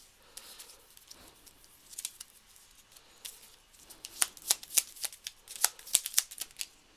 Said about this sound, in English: We're gonna pull one card from the crystal deck.